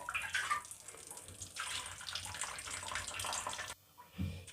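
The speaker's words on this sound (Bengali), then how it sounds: "এর মধ্যে দিয়ে দেব এই যে গরম জল করে রেখেছিলাম আমি আগে থেকেই।" Lukewarm water pours steadily into a bowl of vegetables in a home kitchen, a continuous splashing wash that breaks off briefly near the end before a short low splash.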